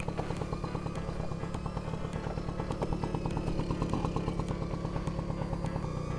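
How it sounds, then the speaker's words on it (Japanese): An AinoHOT R6 electric motorcycle riding fast runs with a rapid throbbing rhythm, steady and fairly close, with no voices. "さあバイクでビュンビュン飛ばして"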